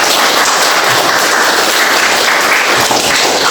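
A classroom full of people applauding, loud, dense clapping that carries on steadily from start to finish.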